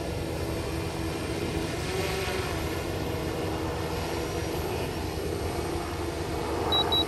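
A SuperX radio-controlled model airplane drones steadily overhead, its motor whine continuous and fairly distant against outdoor wind noise, with no talk.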